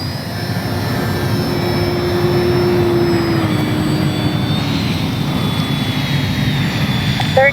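An FMS Ranger 1220 beginner RC plane flies with its electric motor throttled up, a loud, sustained buzzing whine that rises slightly in pitch and holds steady, close by and alone without talk.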